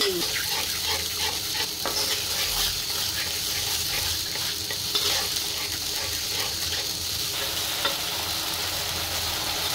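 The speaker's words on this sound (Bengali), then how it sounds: "মশলাটা কষানো হয়ে গেছে" Spices, chili paste and tomato puree are sautéed in a pan, with a continuous close sizzle and scraping stir strokes repeating throughout and no one talking.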